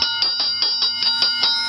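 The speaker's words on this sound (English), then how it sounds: "That's the doorbell at Starkey Ranch." The doorbell at Starkey Ranch rings out as a rapid run of about eight bright, evenly spaced metallic chimes. Each tone rings close and clear on its own, with no voices.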